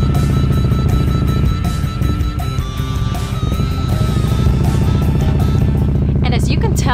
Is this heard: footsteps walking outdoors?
no